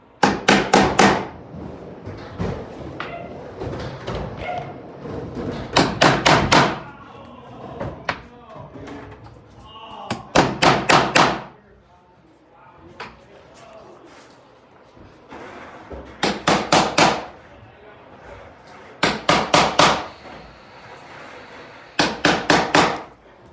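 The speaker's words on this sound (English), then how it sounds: "That way we know we can accurately center punch these" A sharpened screwdriver used as a center punch is struck with a hammer in six separate clusters of rapid, loud, close metallic blows, with quieter handling noise and faint talk between the clusters.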